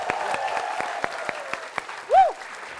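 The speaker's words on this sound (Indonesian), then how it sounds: "Ya kita berikan tepuk tangan untuk lekas sembuh" A studio audience on a TV comedy show gives a few scattered, sharp claps spaced out over a sustained tone, with a brief swooping sound near the end.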